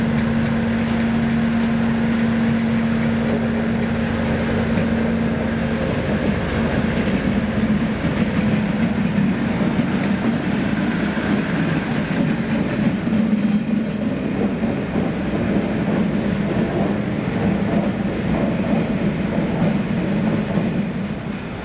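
Class 390 electric train 390-009 in Scotland runs under its own power, a steady, continuous rail rumble with faint wheel clatter and a brief tonal hum early on, with no voices.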